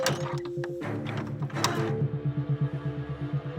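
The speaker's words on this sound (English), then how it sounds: "They push the adjustable sleigh forwards, pull the sinew into place, and push the sleigh back again." A Roman Scorpio artillery piece being readied, its adjustable wooden sleigh pushed forward and back and its sinew pulled into place: close mechanical creaking and ratcheting, with a steady run of rhythmic clicks toward the end and no talking.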